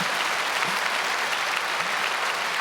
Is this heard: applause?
yes